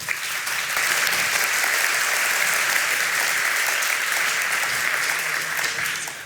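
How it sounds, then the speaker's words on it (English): Audience applause at the Brainwash Festival 2024 stage event, a dense, loud, sustained wash of clapping that swells quickly and holds steady for several seconds. "A warm applause."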